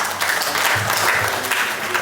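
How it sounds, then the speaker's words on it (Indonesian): An audience at a business seminar in Makassar claps together, a dense, steady burst of applause filling the room for a couple of seconds. "Tepuk tangan buat diri kita."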